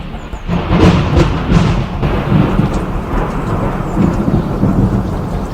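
Loud thunder rumbles through a storm, a deep rolling roar with a sharp crack near the start, sustained and close, with no voices.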